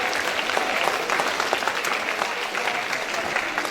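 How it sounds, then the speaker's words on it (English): Audience at a school librarian day event clapping for each other, a dense, continuous burst of applause from a room full of people, steady and fairly loud throughout. "Can we all clap for each other?"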